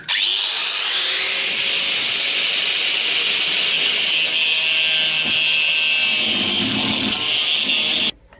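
A power grinder works on the bare steel body of a Citroën Traction 11B around the rear window opening, cutting away old glue in a loud, continuous, high whine that holds steady for about eight seconds before stopping abruptly.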